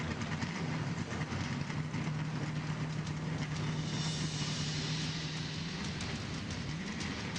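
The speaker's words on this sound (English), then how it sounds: "The engines are started." NASCAR Craftsman Truck Series Chevy Silverado trucks idle together at Phoenix International Raceway, making a steady low engine rumble and drone heard from a distance, continuous and even for several seconds with no speech over it.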